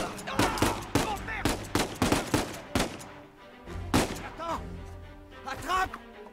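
Gunfire in the video game Uncharted 4 rings out as a rapid burst of sharp, loud shots, then a few scattered shots follow under a voice and game sounds.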